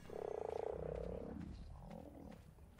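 A frog in Ark: Survival Evolved gives a loud, pulsing croak lasting about a second, then a second, softer croaking call, near and alone.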